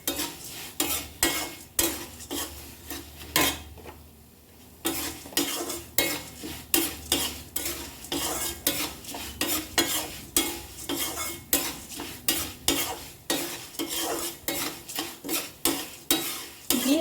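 Mustard seeds, urad dal and cumin seeds fry in hot oil while a spoon scrapes and stirs the pan in a steady rhythm of sharp clinks over a soft sizzle, briefly pausing partway through.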